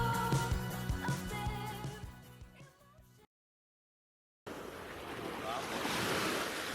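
Wind buffets the microphone over rolling surf at Miami Beach, the ocean rushing steadily throughout, broken by a short gap of silence midway.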